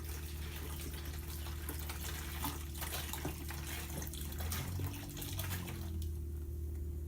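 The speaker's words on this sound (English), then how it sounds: "So we're just going to dump in the vinegar." Vinegar pours steadily into a bucket, a continuous splashing rush over a low background hum, with no voices.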